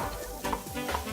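Onions sizzling and sautéing in a pot on a home kitchen stove, a brief steady hiss of frying with a couple of soft stirring scrapes close by.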